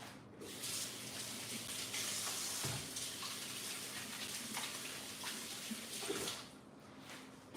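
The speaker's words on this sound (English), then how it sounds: "I'm gonna wash my hands real quick" A kitchen tap runs steadily into a sink while hands are rinsed under the stream, a continuous close splashing hiss with small shifts as the hands move, and no voices.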